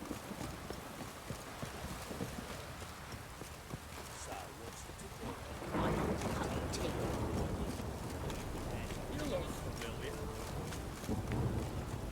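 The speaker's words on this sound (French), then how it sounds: "il pleut tout le temps ici" Steady heavy rain in The Witcher 3 hisses throughout, growing louder and denser about halfway through, with a low rumbling undertone like distant thunder.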